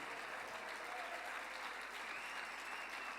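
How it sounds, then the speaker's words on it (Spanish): A church congregation applauds in a steady, dense wash of clapping, moderately distant and sustained throughout with no pauses or voices standing out. "Dele un aplauso más fuerte al Señor y a su palabra."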